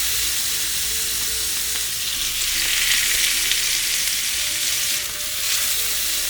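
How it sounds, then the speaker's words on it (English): Burgers sizzle loudly and steadily in a hot pan. The dense frying hiss stays close and even for the whole stretch, with no pauses and no voices. "And then add them to my hot pan."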